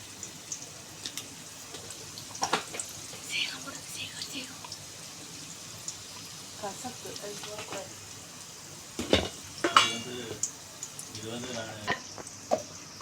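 Onions and dried red chillies sauté in a pan for mango rice: a quiet, steady sizzle broken by scattered spatula scrapes and taps, with a few soft voice-like murmurs near the end.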